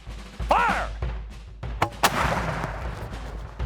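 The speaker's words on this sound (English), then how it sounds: "Carry the charge. Load the charge. Ram the charge. Pick it prime. Make ready. Fire." A Revolutionary War cannon fires at a historical reenactment, a loud boom followed by a rumbling, crackling tail; voices are heard around it.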